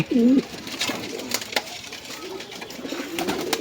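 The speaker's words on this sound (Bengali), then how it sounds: "এখানে অনেক কবুতর আছে" Racing pigeons in a loft give one clear close coo at the start, followed by softer scattered cooing, rustling and faint clicks in the background.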